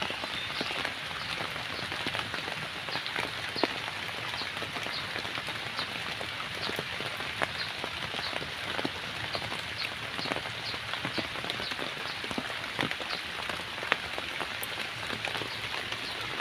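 Steady rain pattering on a surface in a field with blooming lotus flowers, dense and even throughout, with scattered louder drops standing out; no one speaks.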